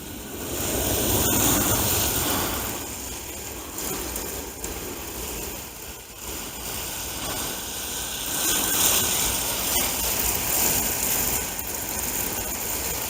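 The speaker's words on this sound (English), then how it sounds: "I'm gonna go ahead and water them in." Water sprays over newly planted melon and cantaloupe seeds in a garden bed, a steady broad hiss that rises and falls over about thirteen seconds with no talking.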